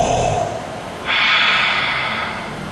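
A voice imitates deep breathing close to the microphone. He takes a rough, snorting breath in and then lets a long, airy breath out, with no other sound.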